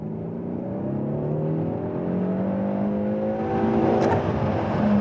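A Peugeot 308 GTi 270 hp hot hatch accelerates hard in sport mode on a damp racetrack, its engine note climbing steadily and growing louder over several seconds, heard from inside the cabin.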